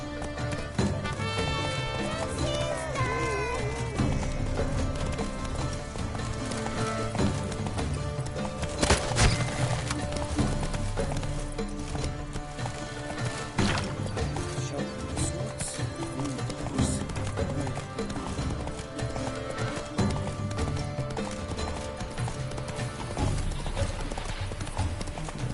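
Roach the horse gallops in The Witcher 3, a steady rapid clip-clop of hooves running throughout, mixed with game music and ambience, with an occasional whinny and brief spoken lines.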